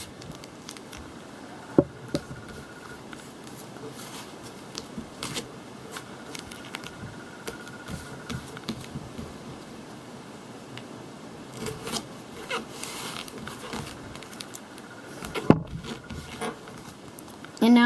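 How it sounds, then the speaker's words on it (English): Scissors snipping duct tape into strips a couple of inches wide, a few sharp cuts and soft crinkling and rubbing of the sticky tape, close and fairly quiet over faint background noise. "Now I can cut them in a couple inch strips"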